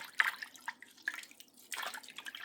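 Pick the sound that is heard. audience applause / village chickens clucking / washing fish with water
washing fish with water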